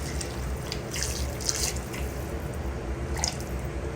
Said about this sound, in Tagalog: Bigyan ko po ng tubig.